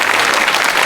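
An audience in a Tamil children's television show applauds in a brief, loud, dense burst of clapping.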